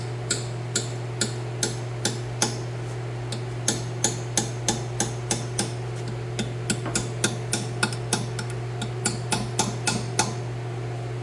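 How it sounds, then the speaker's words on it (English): Punch and hammer tapping at a broken bolt on a truck, delivering a steady run of sharp metallic strikes about every half second, close and clear over a constant low engine-like hum. "I was just able to start tapping it with a punch and hammer"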